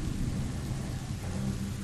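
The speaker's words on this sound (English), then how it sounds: "It's raining." Steady rain and a low rolling thunder rumble in the video game A Plague Tale: Innocence, a dense continuous wash of noise with no pauses.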